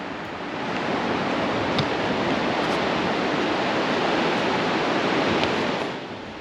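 Sea waves break and wash continuously on a Bay of Bengal beach as a boat is pushed into the water, a dense, loud roar of surf that fades in and out with no talk.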